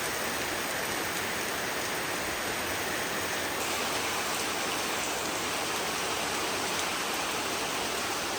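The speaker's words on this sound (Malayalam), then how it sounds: "മഴ പെയ്യുമ്പോൾ ആ ഒരു മഴത്തുള്ളിയുടെ ആ ഒരു തണുപ്പ് കേട്ടിട്ട്" Steady rain pours outside an open sit-out, a dense, even hiss of drops on surfaces nearby, constant and loud with no voices.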